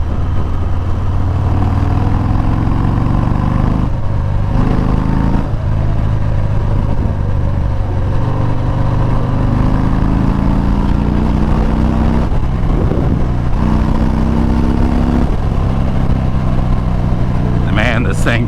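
A Harley-Davidson Fat Bob motorcycle cruises in sixth gear at around 70 mph, its engine a steady, loud low drone mixed with constant wind rush, with slight shifts in pitch throughout.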